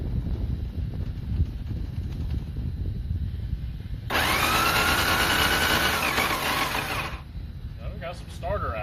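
A Yamaha Virago motorcycle's starter motor cranks in a single steady whirring burst of about three seconds, loud and near, following a stretch of low background rumble and ending abruptly.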